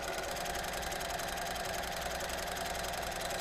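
A sewing machine runs steadily while stitching quilt binding, giving a continuous close mechanical whir with a fine rapid rhythmic rattle that holds level throughout, with no talking.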